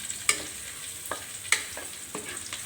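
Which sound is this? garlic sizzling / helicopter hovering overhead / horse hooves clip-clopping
garlic sizzling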